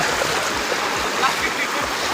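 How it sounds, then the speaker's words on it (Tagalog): Strong river current in the rapids near Talon ni Eva falls in DRT, Bulacan, rushing as a steady broadband flow of water with no speech over it, close to the listener, with faint low thumps as people wade through. "iba na yung current ng daloy ng tubig"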